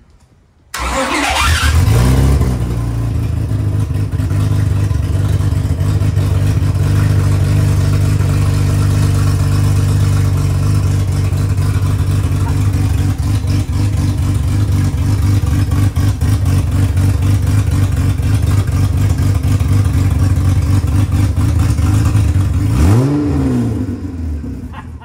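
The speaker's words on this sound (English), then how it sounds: "How about the supercharger whine?" A supercharged Honda J-series drag Civic engine starts and holds a loud, steady high rev for about twenty seconds, a strong supercharger whine riding over the deep engine roar before it drops away at the end.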